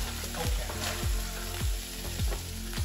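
Food sizzling in vegan butter in a pan, a steady crackling fry. Rhythmic low scraping strokes from stirring recur about every half second, with no voices.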